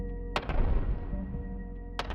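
Grenade blasts in a bomb-dropping incremental video game: two sharp bursts, each followed by a booming rumble that decays, close and fairly loud.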